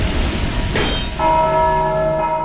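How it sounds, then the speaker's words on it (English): A single bell in the Dark Souls 2 video game is struck once and rings out with a sustained, clear metallic tone that hangs and slowly fades, loud and close, with no speech. "those little hollows that are popping out of the ground are like seeing me and ringing the bell"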